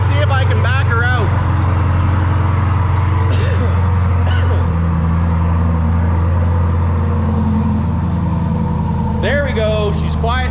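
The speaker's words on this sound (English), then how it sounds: "she is a loud girl with that Corsa Extreme straight pipe" A Chevrolet C8 Corvette with a Corsa Extreme straight pipe exhaust, just back from a transmission replacement, reverses with a loud, steady, deep exhaust drone close by, while a person talks over it.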